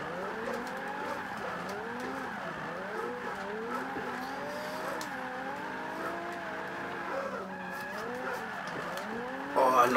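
Video game Forza 5: a Nissan 370Z drifting, its wavering tire squeal and engine drone sustained at moderate level, with a short burst of noise near the end.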